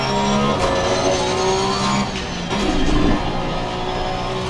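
Race car in Assetto Corsa Competizione at full throttle on the Nürburgring, a loud continuous engine roar with steady harmonic tone that dips briefly mid-way before surging again, heard alone without talk.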